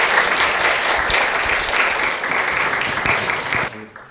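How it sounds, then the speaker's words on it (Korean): A church congregation applauds steadily and loudly for several seconds to welcome a singer, the clapping cutting off abruptly near the end. "박수로 우리 영접하시죠."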